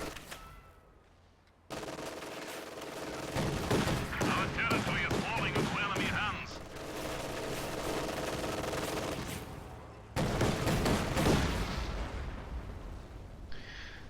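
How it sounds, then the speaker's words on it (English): Sustained autocannon fire rattles in a video game battle as it destroys a fuel cache, with long bursts and a brief pause. The shots sound fairly close and dense, and a narrating voice talks over parts of it. "the autocannon is moving to destroy that fuel cache unopposed"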